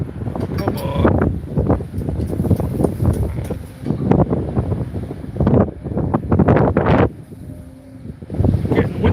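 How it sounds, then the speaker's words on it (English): Gusty wind buffets the microphone in loud, uneven bursts, rising and dropping over several seconds. "Getting windy."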